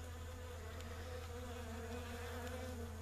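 Honeybees buzzing around a liquid feeding trough, a steady droning hum of many insects close by, with no voices.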